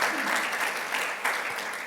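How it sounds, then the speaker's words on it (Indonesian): A church congregation at a Sunday worship service claps together in a brief, steady burst of applause, moderately quiet and even throughout. "Berikan tepuk tangan."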